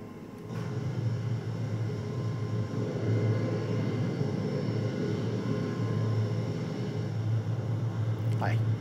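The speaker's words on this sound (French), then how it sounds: "C'est vraiment un joli petit avion de chasse." A BAE Hawk T1 jet fighter in a flight simulator game gives a steady, continuous engine drone and rumble from an exterior view, with soft speech over it.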